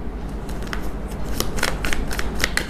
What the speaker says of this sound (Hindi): 2 बार शफल कर लूँ मैं दोनों डेक्स को